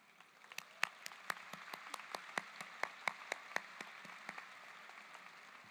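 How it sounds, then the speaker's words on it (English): Applause from an audience at a live-streamed Black/Pan-African ceremony: a thin, scattered patter of clapping with a few sharper individual claps standing out, fairly faint and steady throughout. "Let's give them a round of applause."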